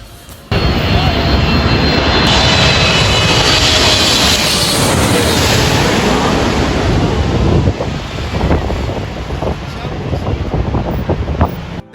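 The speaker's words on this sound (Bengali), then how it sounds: "বোয়িং এর গুলা গেলেই পুরা এলাকা পুরা তোলপাল করে দেয়" A Boeing jet airliner roars loudly overhead at Bauniya, Uttara, Dhaka, a sustained, powerful rush of engine noise with wind buffeting that gradually thins out.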